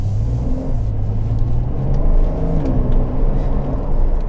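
A Porsche 911 992 Carrera 2S, rear-wheel drive, drives on a wet, rough road, giving a steady low engine drone and tyre rumble heard from inside the cabin.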